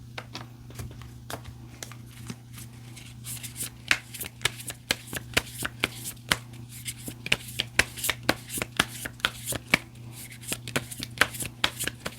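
Tarot cards shuffled by hand for an extra draw, a quick run of crisp riffling snaps and slaps repeating irregularly over a steady low hum, close and moderately loud with no voices.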